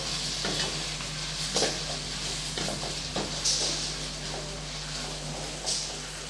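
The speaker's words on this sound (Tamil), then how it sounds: "கொஞ்சமாக கல்லுப்பு சேர்த்து நல்லா வதக்கி விட்டுக்கலாம்" Tomatoes sautéing with rock salt in a pan for chicken biryani: a steady sizzle with intermittent scraping stirs and utensil clinks, close and moderately quiet, with a low hum underneath and no speech.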